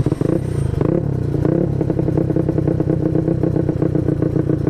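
A Honda Beat scooter with a carburetor bored to 142cc rides on a busy road, its engine running steadily and loud and close, with rapid rhythmic pulses throughout and a short throttle blip near the start.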